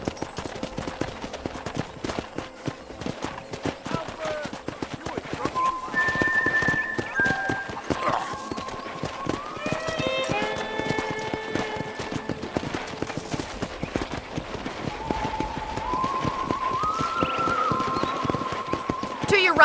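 Horse hooves clip-clop at a steady trot in the Red Dead Redemption game on PC, running continuously beneath a voice guiding a tour of a ranch property, with music tones and other game sounds layered in.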